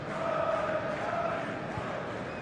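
Crowd noise fills a 22,000-seat football stadium during a Kenya versus Gabon match, a broad steady roar with a faint chant-like tone rising and fading, distant and continuous.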